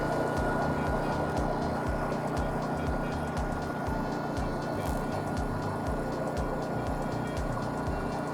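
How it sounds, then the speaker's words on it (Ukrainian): A Hyundai HHY 9050Si inverter generator runs at about seven meters away, giving off a steady, unbroken mechanical drone with faint rhythmic ticking throughout. "Генератор став робити голосніше"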